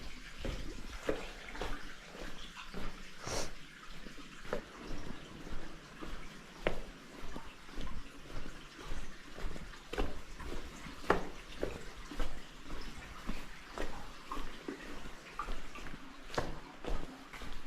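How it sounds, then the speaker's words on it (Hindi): Water running through a drain channel in an underground coal mine, a steady trickling flow with scattered sharper splashes and drips, fairly faint. "पानी होकर के गुजर रहा है"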